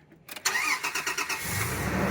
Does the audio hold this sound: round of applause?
no